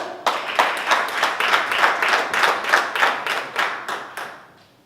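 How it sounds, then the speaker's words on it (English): A small audience at a speech evaluation contest claps in a steady, even rhythm for several seconds, then the clapping fades out; no talking. "Really applause your hands with Toastmaster Moni"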